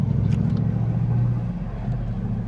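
Steady low engine rumble from a station wagon driving along, a continuous close drone with faint road noise.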